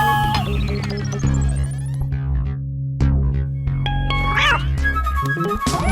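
A cat meows repeatedly, loud and close, with drawn-out wailing calls over a dense background of film music and effects.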